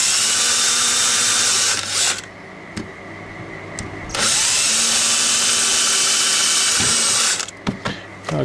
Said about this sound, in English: you drill yourself some pilot holes